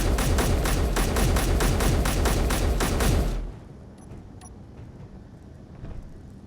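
Dense burst of rapid gunfire from ships in a space video game, loud and continuous for about three seconds, then cutting off abruptly into a low ambient hum with faint scattered clicks.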